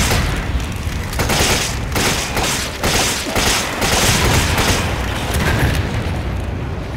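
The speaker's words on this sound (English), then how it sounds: "I'm gonna just throw all my grenades here." Continuous loud booming blasts of grenade explosions in the video game Resident Evil 5, dense overlapping detonations filling the whole stretch with a roaring, rumbling wash.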